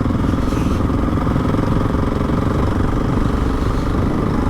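A Husqvarna 701 single-cylinder motorcycle engine runs steadily at close range, a loud, even, throbbing idle with mechanical clatter throughout and no talk.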